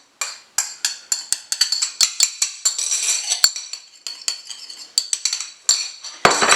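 Sugar, yeast and ground mahlab mixed into semolina in a bowl for maamoul, a spoon clinking and scraping against the bowl in a steady run of close, bright taps with no talking.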